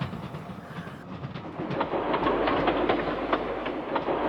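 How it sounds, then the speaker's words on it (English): A train climbing a hill rumbles along with rhythmic clickety-clack of wheels on rails, close and steady, growing slightly louder after the first second. "Zebedee was resting after banking Atlas's train up the hill"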